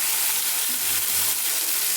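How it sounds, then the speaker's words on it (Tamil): Onions sauté in a hot pan for a spicy kara chutney, giving a dense, loud, unbroken sizzle with faint stirring underneath. "ஓகே, வதங்கிருச்சு. வெங்காயம் நல்லா வதங்கிருச்சு."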